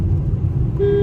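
A car horn gives a short single toot at the end, sounding over the steady low rumble of the moving car from inside on a road trip.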